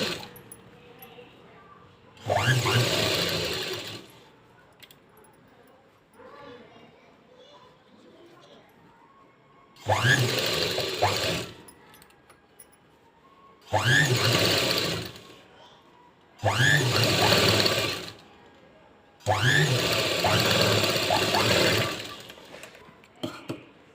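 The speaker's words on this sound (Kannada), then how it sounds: "ಹಾಕ್ಕೊಂಡು ಒಂದು ಹಾಫ್ ಇಂಚ್ ಡಿಸ್ಟೆನ್ಸಲ್ಲಿ ಸ್ಟಿಚ್ ಮಾಡ್ಕೊತ ಹೋಗಬೇಕು" Sewing machine stitching blouse fabric in loud bursts, five separate runs of rapid stitching of a few seconds each, with quieter gaps between them where a voice talks softly.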